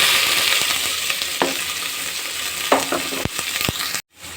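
Green chillies and chopped onions fry in hot oil for a beef masala curry, with a loud, continuous sizzle and a few sharp clacks of a spoon against the pan before it cuts off abruptly.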